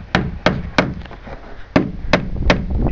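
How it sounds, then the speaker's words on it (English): A hammer drives nails into plywood while building a shed roof: six sharp, close knocks land at uneven intervals, with a quieter stretch between the third and fourth blows. "So right now we're just nailing this"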